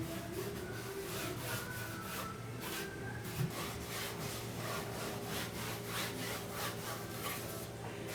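Steady, close rubbing strokes across the wooden cabinet of a 1949 television set, blending in scuff marks, a continuous scratchy friction with a rhythmic back-and-forth pattern and no talking.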